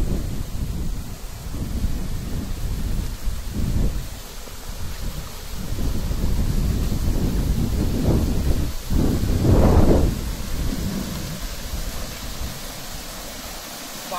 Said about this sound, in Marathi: माझा आवाज तुम्हाला कमी येत असेल कारण की या ठिकाणी पाण्याचा खूप आवाज येतोय